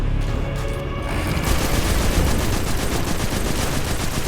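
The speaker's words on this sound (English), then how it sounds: "he's gonna just start shooting like crazy" Dense, sustained enemy gunfire in the shooter game Destiny 2, loud rapid automatic bursts and booms firing continuously like a fusillade, with no talking.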